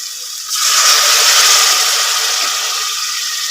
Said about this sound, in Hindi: अब हम इसको हल्का सा पानी लगाएंगे।